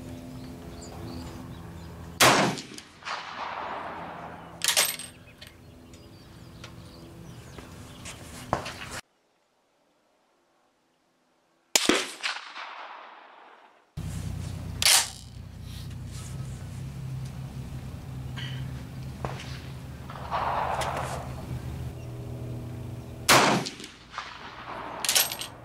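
Gunshots at a shooting range test ring out one at a time, loud and sharp with pauses between shots, each crack trailing into an echo, with a stretch of silence midway.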